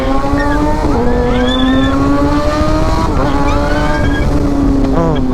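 A Kawasaki big bike accelerates fast on a busy road, its engine note climbing steadily through several gear changes, loud and close with heavy wind and traffic noise around it and no speech.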